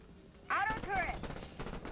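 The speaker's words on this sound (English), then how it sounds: "Auto turret!" Auto turret fire in the sci-fi shooter Earthfall, with a sharp burst of shots beginning midway and a muffled voice under the noisy, clattering gunfire.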